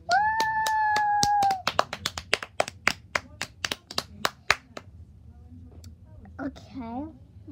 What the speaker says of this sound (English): I'll give a round of applause for Anya.